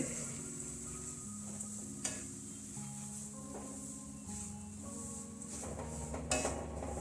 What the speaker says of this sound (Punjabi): ਸੂਜੀ ਪਾ ਕੇ ਮਿਕਸ ਕਰ ਦੇਵਾਂਗੇ ਘਿਓ ਦੇ ਵਿੱਚ